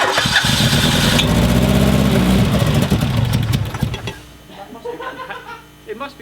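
The Donor 505 engine catches on a cold start with a loud, rough, revving roar that fades after about four seconds into faint sputtering, and voices are heard in the background.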